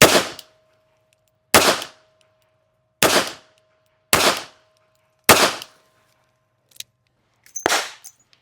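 A S&W 642 .38 Special revolver fired double action at a range: five loud, sharp shots spaced about a second apart, close up, followed by a couple of quieter clicks and one more report.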